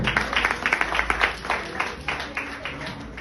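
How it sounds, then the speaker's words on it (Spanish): A church congregation claps steadily in a reverberant room, a sustained burst of applause with rhythmic peaks, fairly loud and continuous. "Dale un aplauso a Dios."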